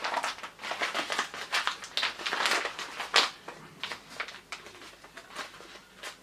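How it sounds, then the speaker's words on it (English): Crinkly wax paper snack packet of beef strips rustles and crackles repeatedly in irregular bursts, close up, as fingers work at the stubborn wrapper. "hard to open packets. I can't even get in there"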